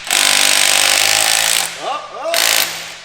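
A battery-powered impact tool with a 6.0 battery hammers at a wheel nut on large aftermarket wheels, giving two loud, rapid rattling bursts with a short squealing gap between them.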